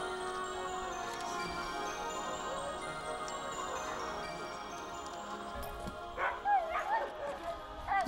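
Sled dogs bark, yip and whimper in snowy woods, a moderately distant, excited chorus that grows louder toward the end, with talk mixed in.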